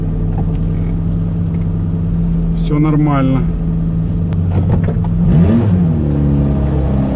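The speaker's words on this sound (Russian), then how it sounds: "Вот без сцепления едем на первой на холостых." A car creeps off in first gear at idle with no clutch or throttle input, a steady low engine drone running throughout while someone speaks briefly over it.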